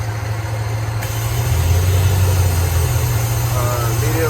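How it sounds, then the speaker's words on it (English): A car engine idles, then its speed rises and holds higher after a PCV hose is pulled to create a vacuum leak, with a steady low hum close to the microphone. "Immediately you can hear the car rev up."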